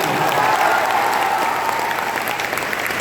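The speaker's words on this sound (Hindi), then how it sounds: "मैं कहता हूं एक बार जोरदार बिहार के लिए तालियां बजा दो।" A large seminar crowd in Darbhanga claps loudly for Bihar at a motivational event, a continuous, even wash of many hands that holds steady throughout with no speech on top.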